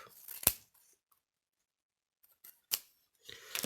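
Scissors snipping through a strip of lace while a simple monochrome red greeting card is made, a few crisp isolated cuts close up separated by quiet pauses.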